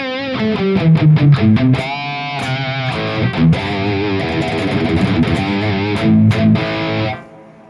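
A high-gain distorted electric guitar played through a Valeton GP200 with a touch of room reverb rings out in chugging chords and melodic lines, loud and alone, before cutting off near the end.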